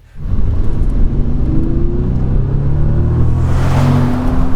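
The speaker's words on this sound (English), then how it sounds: "But oh, that W12 sounds and feels good." An old Bentley Continental GT with a W12 engine drives along, its steady engine rumble and rising revs loud and continuous throughout, with road noise building toward the end.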